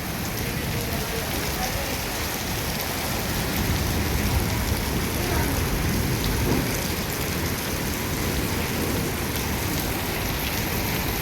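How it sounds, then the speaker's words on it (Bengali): Heavy rain pours down in a dense, unbroken roar of drops on surfaces, loud and close, holding steady with no voices. "মুষলধারে বৃষ্টি হচ্ছে"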